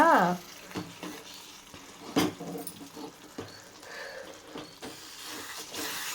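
Spoon stirring a nearly finished tomato and dried fish curry in a pan, with soft scraping and gentle sizzling throughout and a sharper clink or two of the spoon, with no talk.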